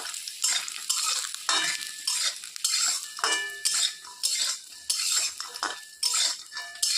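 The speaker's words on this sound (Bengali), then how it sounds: "তো বড়িগুলোকে একটু লাল করে ভেজে নিব প্রথমে" Lentil dumplings (dal bori) fry in hot oil with a steady, close sizzle, broken by repeated scraping and clinking bursts of a utensil stirring in the pan. No one speaks.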